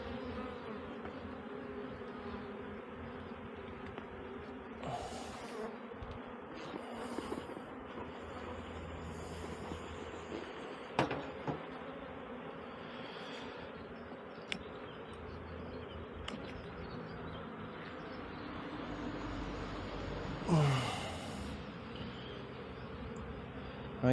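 Honeybee swarm leaving a hive with the queen, a steady dense buzzing held for the whole stretch, with individual bees zipping close past now and then and a light mechanical hum underneath.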